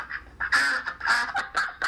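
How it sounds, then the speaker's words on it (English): A played sound effect of ducks quacking in a run of loud, nasal, overlapping quacks, close and continuous for a couple of seconds, with no talk over it. "the sound of those rabid ducks in the background"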